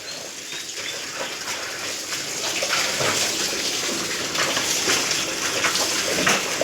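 Water runs and splashes continuously while a water tank is being scrubbed and washed, a loud, close, steady rush with scraping and sloshing throughout and no talking.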